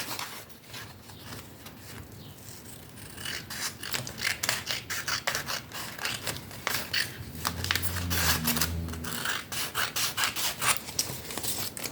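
Scissors cut through glossy magazine pages for a collage, giving a steady run of close, crisp snipping and rustling strokes with paper shuffling between them.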